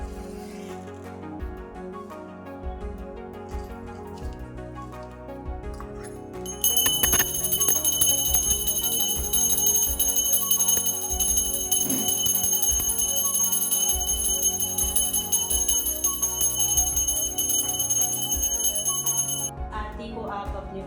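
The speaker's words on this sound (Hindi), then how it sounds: "साथ में घंटी की ध्वनि भी बजाते रहिए" A hand bell rung continuously during a Hindu aarti puja at home, bright, ringing metallic peals that swell loudly partway through and sustain with a shimmering tone over softer background sound.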